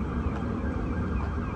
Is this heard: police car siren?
yes